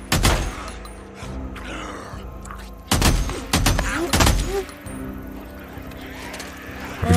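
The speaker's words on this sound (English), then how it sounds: "You're just going to murder them with a gun?" MG45 gunfire against a zombie horde in the video game Days Gone: loud, sharp bursts of shots in clusters separated by short pauses, with players talking between them.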